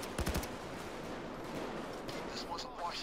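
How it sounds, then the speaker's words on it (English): Video game gunfire in Payday 2, a quick burst of three or four sharp shots near the start, followed by fainter scattered pops over a busy game background. "I hear the shots."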